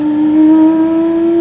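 A loud car nearby gives off a strong, steady engine drone with a clear humming pitch that holds nearly constant, swelling slightly and then settling, with no voices over it.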